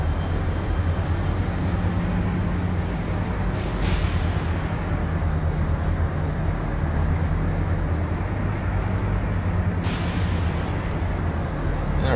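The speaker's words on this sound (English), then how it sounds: "taking all kinds of gunfire." Naval gunfire in the War on the Sea video game, with heavy booming shots hitting at two points amid a constant loud rumble of engines and sea, the blasts sharp and close.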